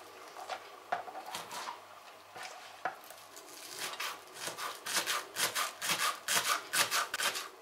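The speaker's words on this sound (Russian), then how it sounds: "Мелко нарезаем перья лука." A knife finely chops green onion on a cutting board for a New Year's salad, first in a few scattered strokes and then in a quickening run of crisp, evenly spaced taps, close and clear.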